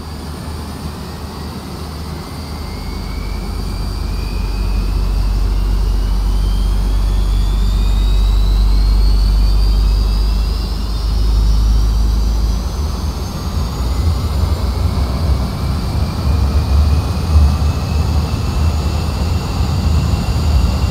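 Avro Vulcan jet engines spooling up in a flight simulator, a loud, continuous low roar with rising whines that climb steadily over about twenty seconds, with no talk.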